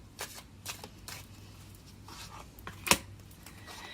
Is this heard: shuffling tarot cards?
yes